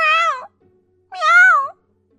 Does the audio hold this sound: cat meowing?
yes